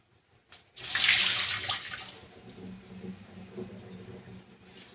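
Water pours off soaked apple pieces, a sudden splashy gush that tapers into trickling and dripping in a sink, close and unaccompanied by speech.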